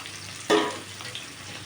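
Onions and green chillies fry in a pan with tempering seeds, a short loud sizzling burst as they hit the oil, then a softer sizzle fading under a low background hum.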